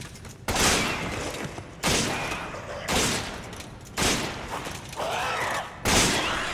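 Repeated shotgun blasts in Resident Evil 5, each a loud broad burst about a second apart, with short gaps between the bursts and no one talking over them.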